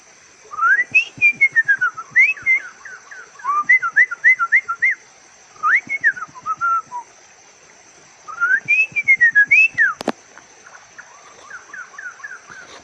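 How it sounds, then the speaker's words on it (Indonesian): A white-rumped shama sings clear, varied whistled phrases in bursts with pauses between, fairly close, over a faint steady high hiss. "Itu dia burung murai batu."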